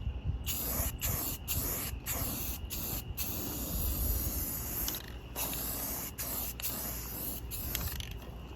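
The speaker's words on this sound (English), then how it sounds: "We're gonna go ahead and spray a little bit of semi-gloss." Steady hiss of a spray gun applying semi-gloss paint to 1978 Power Wagon axle parts in repeated bursts, broken by brief pauses, with mechanical clatter in the background.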